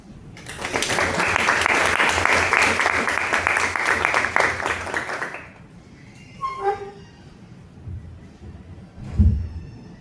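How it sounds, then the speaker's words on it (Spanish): Audience applause at a road-safety conference, a dense burst of clapping that swells for about five seconds and then stops abruptly, leaving a quiet room with a few small noises. "Les damos un fuerte aplauso."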